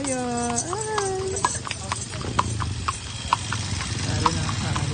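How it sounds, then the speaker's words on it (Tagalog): Horse hooves clip-clopping in a steady rhythm on a street in Liliw, Laguna, with a brief whinny-like tone at the start, close by and clear over background bustle. "May kabayo."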